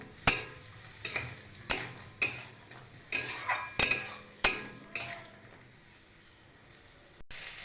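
New potatoes with green peas and spices being stirred in a pan: a series of distinct, evenly spaced taps and knocks of a spoon against the pan, close and crisp, then a pause before one final clink.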